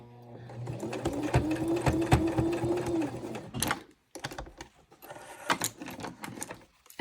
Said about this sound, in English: don't be like me and be cheap with your thread